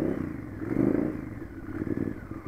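A 2002 Honda VTR 1000F Superhawk V-twin idles steadily after the choke is pushed in, a low rumbling engine note close by with slight swells and mechanical clatter, no talking.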